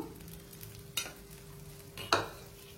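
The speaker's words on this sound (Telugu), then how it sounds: "బాగా కొంచెం అట్లా కాలిద్దాం దోశ" A masala dosa fries in oil on a pan, a soft steady sizzle near at hand, broken by two sharp scraping strokes of a spatula against the pan.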